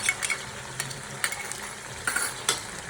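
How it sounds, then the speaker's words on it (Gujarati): Ginger sizzling in a hot pan while being stirred, a steady frying hiss punctuated by repeated scraping clicks of a spoon against the pan, close and moderately loud. "હવે આદું નાખું છું સો ગ્રામ આદું હતું"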